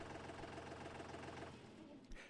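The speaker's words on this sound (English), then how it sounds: "Release the water switch to allow the engines to throttle back to idle." Engines of an abrasive blasting machine throttle back toward idle after the water switch is released, a steady close mechanical rumble and rattle that eases and drops slightly in level partway through, with a brief thump near the end.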